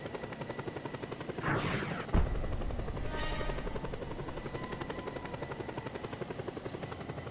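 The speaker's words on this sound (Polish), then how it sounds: "Jako tako helikoptery mnie gonią." Helicopters chasing the player in the video game Just Cause 2, a steady rhythmic rotor thump throughout with whooshing passes and a sharp bang, no talk over it.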